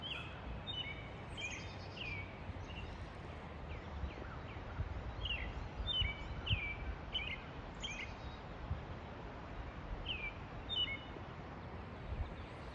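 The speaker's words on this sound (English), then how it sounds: "I hope you can also hear the birds." Small birds sing bright, repeated chirping phrases on a spring morning along the Appalachian Trail, at a moderate distance over a steady outdoor rush of wind or water, with no voices.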